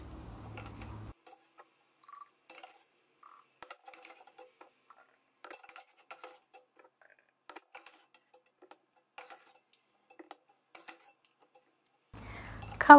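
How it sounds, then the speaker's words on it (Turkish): Hot homemade tomato paste is spooned into a glass jar, giving sparse faint clinks and taps of a spoon against glass with quiet gaps between them. "Sıcakken kavanoza alıyorum."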